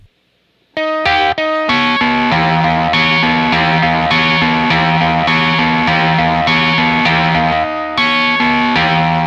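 An electric guitar runs through an LOE Sounds Super Fuzz octave fuzz at low gain. Loud, sustained chords with a harsh, clashing, ring-modulator-like tone ring out after a short silence, with brief pauses between strums.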